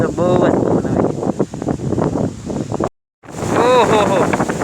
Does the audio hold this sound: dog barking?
no